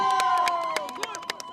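A crowd at Jamhuri Day celebrations in Garbatulla, Isiolo, claps for Ali Harun, peace chairman of Garbatulla sub-county. Scattered handclaps pop out over a steady murmur of voices and a few shouts.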